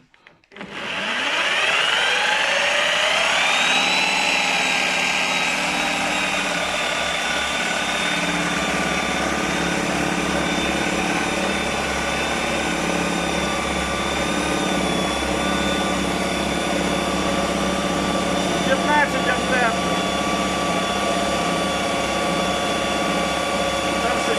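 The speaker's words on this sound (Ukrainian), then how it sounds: "показую, що я дрельку тримаю одною рукою." Handheld electric drill spinning an induction motor used as a generator, a loud continuous high-pitched motor whine that spins up within the first seconds and holds steady throughout with little change.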